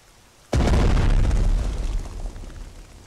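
Heavy artillery blast from a collective barrage in the World War II strategy game Strategic Mind: Blitzkrieg, Operation Sea Lion: a sudden loud boom after a brief quiet, followed by a long rumbling decay with no talk.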